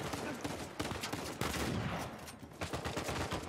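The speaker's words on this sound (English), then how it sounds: "They're just shooting everybody." Dense bursts of video game gunfire from Uncharted 4, with shotgun blasts and overlapping shots in quick succession, loud and continuous across the whole stretch with only brief dips.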